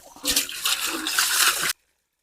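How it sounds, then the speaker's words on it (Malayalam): Tap water splashes into a pot as it is washed and filled in a Kerala home kitchen, a steady rushing gush lasting under two seconds that stops abruptly. "ഈ പാത്രം ഒന്ന് കഴുകിയിട്ട് വെള്ളം എടുക്കാം."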